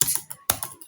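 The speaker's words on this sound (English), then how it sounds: "Then I'm just going to type in this, contact us." A short burst of typing on a computer keyboard, a few quick close key clicks in two small clusters, with no talking.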